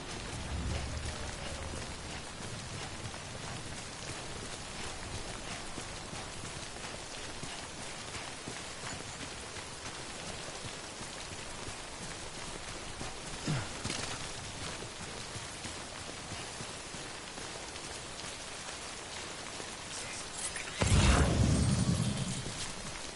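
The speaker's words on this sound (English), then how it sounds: "Don't stay out in the rain any longer than you have to." Timefall rain in the Death Stranding video game falls as a steady hiss of rain throughout, with occasional footstep-like thumps and a louder burst near the end.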